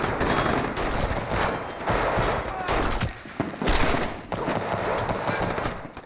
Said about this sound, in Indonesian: ledakan petasan itu membuat anak buah Smith kaget